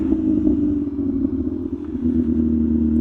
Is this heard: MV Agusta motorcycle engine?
yes